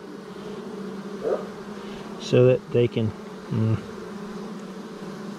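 Honey bees buzzing steadily as they are moved from a swarm trap to a ten-frame hive, a continuous close drone with someone briefly speaking over it.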